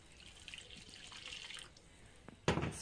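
Water is poured into rice powder while making petha, a soft trickle and splash at close range, then a brief louder splash near the end.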